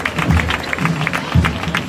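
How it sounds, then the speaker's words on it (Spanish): Crowd in the streets of Jerez applauding a Holy Week palio float during a procession, scattered bursts of clapping swelling and fading at a moderate distance, no voices on top. "Los aplausos del público de Jerez a este paso de palio, comandado por Isaac Núñez."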